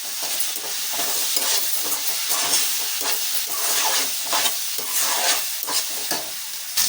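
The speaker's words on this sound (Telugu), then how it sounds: "ఇది మొత్తం కలిసేటట్టుగా కలుపుకోవాలి." Tindora and tomato curry with chili powder is stirred in a hot pan, giving a loud, continuous sizzle with rhythmic scraping strokes of a spoon and a bubbling hiss throughout.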